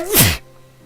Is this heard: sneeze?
yes